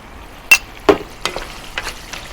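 Beef masala cooking in a pan as about three tablespoons of yogurt go in, with a few sharp sizzling bursts and stirring scrapes over a low background crackle, no talk.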